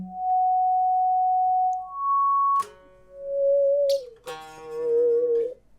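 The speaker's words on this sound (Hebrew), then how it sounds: "מנגן לי גל סינוס" A Fractal Axe-Fx synth voice produces a clean sine wave tone that follows the guitar's pitch, moving through a handful of sustained notes that glide and step between pitches, loud and alone.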